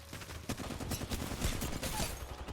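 Rapid bursts of gunfire in a video game match, with crackling shots in quick succession, fairly faint and continuous across the short stretch, no talk over it.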